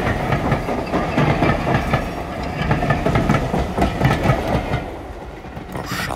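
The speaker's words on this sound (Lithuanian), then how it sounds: "Pro šalį pradundėjo trečias švytintis traukinys." A train rumbles past as a sound effect in a Lithuanian audiobook of The Little Prince, loud and close, with a steady roar and a rhythmic clickety-clack of wheels over the rail joints, fading slightly near the end.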